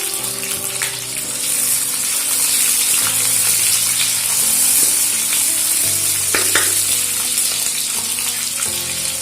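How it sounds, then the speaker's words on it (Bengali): Spice paste with ginger frying in a pan, a steady loud sizzle with occasional stirring scrapes throughout. "এবারে মশলাটা একটু ভেজে নিচ্ছি যাতে করে আদার কাঁচা গন্ধটা না বের হয়।"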